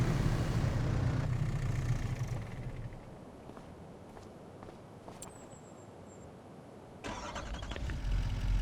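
Tractor engine starting in Farming Simulator 25 on PS5: a loud engine burst at first, then quieter idling with a few clicks and footsteps, followed by a brief swell and a second louder surge near the end, with no talking.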